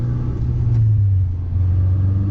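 A manual transmission car's engine revving, a steady low rumble that rises slightly and then holds, close and loud, with no one talking.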